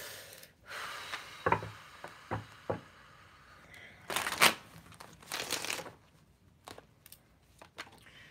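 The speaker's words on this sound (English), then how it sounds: "I'm going to shuffle for the sign of Gemini." Tarot cards being shuffled by hand in a quiet room, with a series of soft papery riffles, slaps and crinkling taps at irregular intervals, close and moderately faint.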